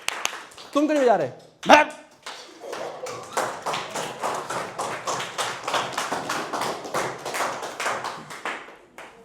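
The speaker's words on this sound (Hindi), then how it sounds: "तालियां खुद के लिए।" Students in a physics class at IIT Mandi break into a long run of dense, fairly close clapping, after a short exchange of speech at the start.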